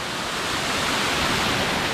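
A jungle limestone waterfall in Trinidad, heard as a steady, loud broadband rush of falling water with no talk over it.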